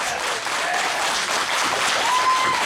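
A wrestling event crowd applauds, a dense steady wash of clapping with scattered cheers and whistles, loud and sustained throughout.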